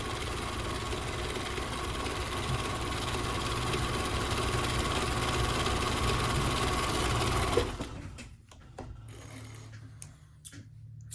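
A Husqvarna Viking 6430 sewing machine sews a back stitch with a steady, close, whirring mechanical hum for about eight seconds, then stops, leaving a few quiet clicks and handling sounds.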